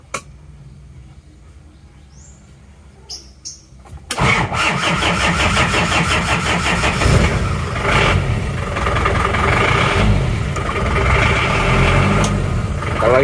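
A Daihatsu Taft GT with a semi-blowby (ngobos) engine cranks and fires on a cold morning after a few seconds of quiet, then settles into a loud, steady, close-up idle.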